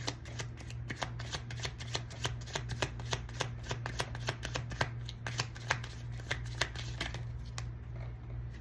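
Tarot cards shuffled in a steady run of quick riffling flicks, close and crisp, over a low constant hum, with no talking.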